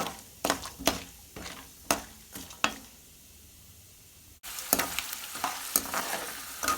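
Onion and green chili tempering fries in hot oil, with loud sizzling bursts and stirring scrapes in irregular strokes, a brief quiet gap, then a steady, dense crackle resumes.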